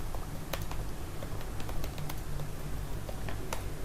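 Someone types a search phrase on a computer keyboard in a run of quick, close, irregular key clicks over a low background hum, with no talking.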